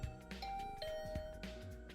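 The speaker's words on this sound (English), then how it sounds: "I rang the doorbell." A doorbell rings in The Hundred Line: Last Defense game, a soft two-tone chime heard faintly over background music, with no talk.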